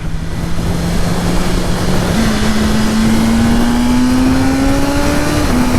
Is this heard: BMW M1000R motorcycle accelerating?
yes